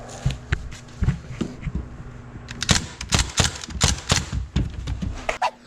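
Rapid bursts of sharp snapping shots from an automatic airsoft gun used against rats, coming in irregular clusters of close, loud cracks over a low steady hum.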